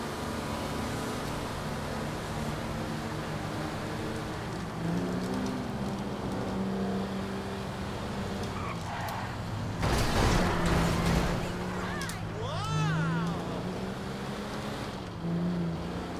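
A car driving in GTA 5 Online, a steady engine drone with rising and falling pitch as it revs and shifts, with a louder passing rush midway.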